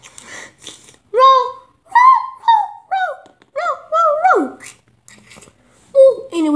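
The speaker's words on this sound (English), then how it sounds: "Is my doggy in background." A dog nearby whimpers and yips in a string of high, whiny cries and short barks, rising and falling, with quiet gaps between bursts.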